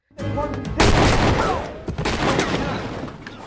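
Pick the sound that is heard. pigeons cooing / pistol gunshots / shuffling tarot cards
pistol gunshots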